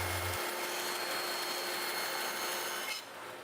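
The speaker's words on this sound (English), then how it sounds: "Here I am at the bandsaw trimming off the back slats." A bandsaw cuts through wooden back slats for a bar-height Adirondack chair, a steady close whirring hiss of blade on wood that fades slightly as the cut finishes.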